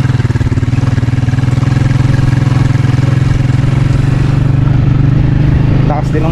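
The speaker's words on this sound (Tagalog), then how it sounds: "Lakas din ang motor niya eh." A motorcycle engine runs loud and close with a steady low throbbing idle, while people talk nearby.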